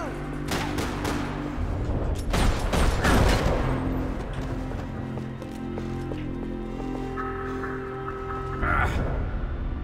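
Gunfire from a jump-and-shoot dive in Max Payne 3 on PC: several sharp, loud shots in a quick cluster early on, with game ambience and tonal effects continuing afterward.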